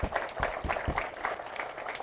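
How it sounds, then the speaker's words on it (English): Audience applause for the organizers of an event, a steady patter of many hands clapping at once, fairly loud and continuous through a brief two seconds. "give them a round of applause."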